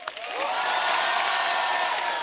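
Television studio audience at a comedy show breaks into dense, loud applause and cheering for arriving guests, rising quickly and holding steady for a couple of seconds.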